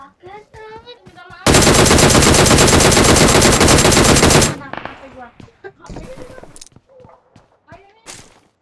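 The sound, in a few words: gunfire in the video game PUBG Mobile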